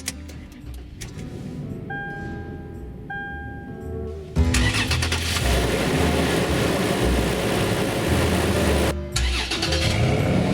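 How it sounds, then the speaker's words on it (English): A Toyota 4Runner Trail's 4-liter V6 cranks and fires after a few soft dashboard chimes, settling into a loud, steady idle before a brief dip and resumption near the end. "we'll go ahead and we'll start the engine"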